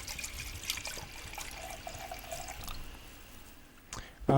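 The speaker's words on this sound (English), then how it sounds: "I'm gonna pour a little more of this Moscato" Moscato wine trickles and splashes into a glass in a soft, steady pour lasting a few seconds, fairly close, followed by a brief clink.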